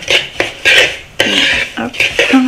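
Spoons clinking and scraping in a bowl while mixing with melted butter for a cheesecake base, a series of close, loud, irregular metallic taps and scrapes.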